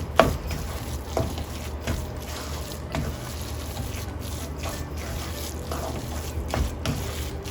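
Sweet coconut rice is stirred with saffron milk in a pot, producing repeated soft scraping and wet mixing strokes in an uneven rhythm, close and fairly quiet.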